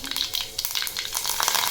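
Cumin and mustard seeds crackle and spit in hot oil for a dhokla tempering, a steady close sizzle with sharp popping bursts throughout.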